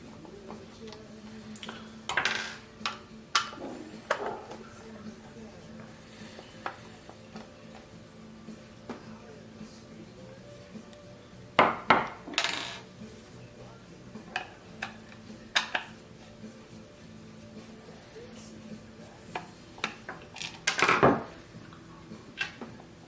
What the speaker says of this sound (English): So with a Phillips screwdriver, there are 3 screws in the back of the driver.